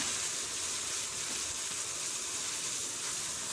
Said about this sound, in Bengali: এই যে আমার পেস্টটা ব্রাউন কালার হয়ে আসছে এখন দিয়ে দিচ্ছি গোলানো মশলাটা